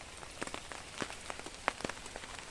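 Rain falling outdoors beside a river, heard as scattered soft patters and occasional sharper drops hitting a surface, fairly faint and steady with no talking.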